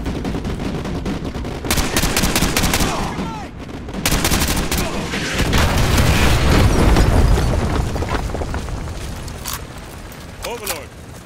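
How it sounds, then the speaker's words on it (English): Artillery strikes and gunfire in Call of Duty Modern Warfare 2 Remastered, set in northeastern Virginia: dense, loud booms and rattling bursts of fire roll on continuously, with brief lulls between heavy blasts and radio-style voices talking over parts of it. "Fire mission received. Artillery inbound. Coordinates confirmed."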